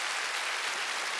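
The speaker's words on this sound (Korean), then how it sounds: "박수 치려면 세게 치세요." Church congregation applauding during a Sunday worship service, a dense, even wash of many hands clapping at once, moderately loud and continuous.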